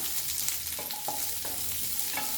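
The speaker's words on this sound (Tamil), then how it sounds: "ஒரு மீடியம் சைஸ் பெரிய வெங்காயத்தை வந்து ஸ்கொயர் ஷேப்பில் கட் பண்ணி ஆட் பண்ணிக்கிறேன் நல்லா வதக்கிக்கலாம்" Square-cut onion sautéing with garlic in a pan, a continuous close sizzle with several distinct spatula scrapes and taps spaced across the moment.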